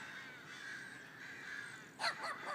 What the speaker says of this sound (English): I have never heard a group of crows that loud.